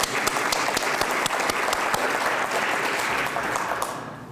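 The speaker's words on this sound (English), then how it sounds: "Let's have a real applause." A dinner audience at a university Hall of Fame celebration claps heartily, a dense, loud round of applause with crisp individual claps that holds steady, then fades out near the end.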